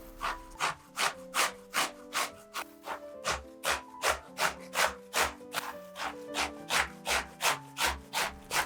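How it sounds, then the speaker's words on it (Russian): A young zucchini of about 700 grams is rubbed against a coarse kitchen grater in quick, regular rasping strokes, roughly three per second, loud and close with no voices. "Я беру кабачок и тру его на крупной терке."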